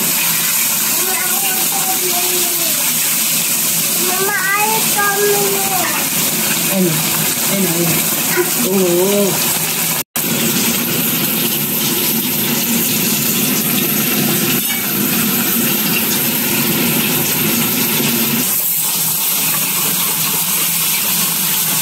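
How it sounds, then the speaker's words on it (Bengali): Tilapia fish frying in mustard oil gives off a steady, close sizzle and hiss that runs throughout. Someone talks over it now and then. "কত সুন্দর ভাজা হচ্ছে দেখেন, একদম এরকম ভেজে নিতে হবে।"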